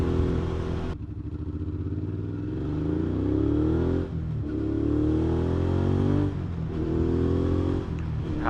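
A 2019 Suzuki V-Strom 650 revs up and down in repeated rising swells of engine tone, close and loud, with brief dips between each pull.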